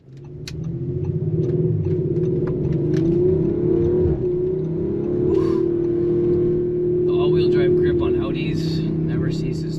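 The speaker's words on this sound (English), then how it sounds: "When you shift into sport mode, the exhaust gets much more throaty, louder." A 2019 Audi RS5 Sportback (B9) in sport mode accelerates with a loud, throaty exhaust drone that climbs and holds in pitch for several seconds, close up, with faint clicks and rattles over it.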